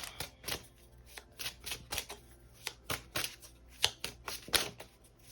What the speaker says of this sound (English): I'm going to keep shuffling.